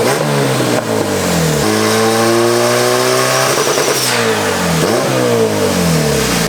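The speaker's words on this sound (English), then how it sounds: "You hear that gate open, it's just, dude, it's creeping up in boost so fast." A turbocharged car engine revs hard under climbing boost, loud and close, its pitch sweeping up and down in surges while the wastegate gives a hissing release partway through, and no one speaks.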